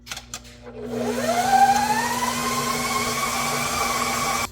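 A stand mixer creaming pound cake batter starts up after a few knocks and spins up into a steady, close, whirring motor hum that holds level to the end.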